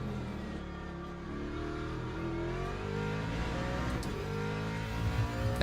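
A race car engine in the Le Mans Ultimate sim racing game at Bahrain over-revs, a loud, continuous, high-pitched engine whine with pitch sweeping up and down steadily throughout, no talk over it.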